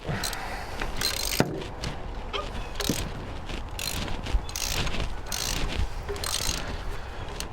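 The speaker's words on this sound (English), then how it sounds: "And carefully ratchet those out of there." Ratchet wrench with a 16 mm spark plug socket loosening spark plugs on a Ram ProMaster City van at 100k-mile maintenance, a series of quiet, quick clicking strokes repeated in short bursts, close by with no talk.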